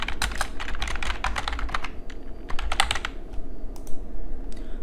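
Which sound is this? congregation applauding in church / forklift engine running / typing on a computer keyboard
typing on a computer keyboard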